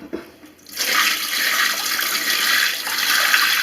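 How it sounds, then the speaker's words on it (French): A bucket of water tipped out in a bathroom, silent at first, then a sudden, loud, continuous rushing pour that carries on steadily to the end. "je vide le seau"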